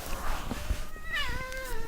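A cat lets out a single drawn-out meow with a falling pitch, moderately close, over a noisy indoor background with no talk.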